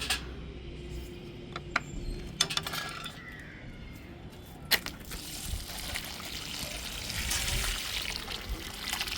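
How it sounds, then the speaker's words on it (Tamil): Homemade liquid fertilizer of banana and drumstick leaves poured onto the soil of a potted rose, a soft steady trickle and splash with a few small clinks, fairly quiet and close, with no talking. "இந்த மாதிரி செழிப்பாக ஊற்றி விட்டுடலாம்"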